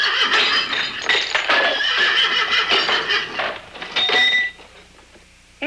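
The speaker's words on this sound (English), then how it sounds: "Those horses have gone wild!" Horses neigh wildly in a 1980 fairy-tale film, with shrill, overlapping whinnies that run almost without a break, loud and close, fading near the end.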